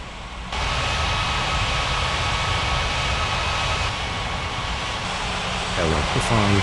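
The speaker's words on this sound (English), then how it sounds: "cleared for takeoff runway 32" A jet airliner's engines roar steadily and loudly during a takeoff run on an airport runway, a broad continuous rush that swells slightly near the end.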